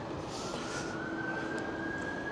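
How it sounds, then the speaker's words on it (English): A steady police car siren tone holds over a dense wash of city traffic noise near Blackpool Pleasure Beach, the wail fairly distant and level throughout. "We're just listening to the sirens, and that's possibly a police car whipping along."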